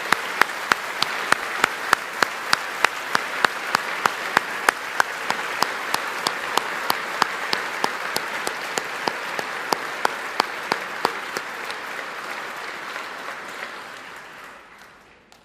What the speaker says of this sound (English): Okay, so that's the end of the round of applauses